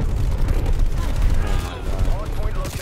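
Gunfire in the shooter Black Ops Cold War, dense rapid bursts and booms blending into a loud continuous barrage, with a voice talking over the shooting.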